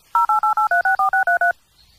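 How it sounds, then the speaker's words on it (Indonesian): A telephone keypad sends about ten quick, evenly spaced dialing tones, each a clean two-pitch beep, loud and close, followed by a brief quiet hiss. "Tuh kan, ada nada sambung kan?"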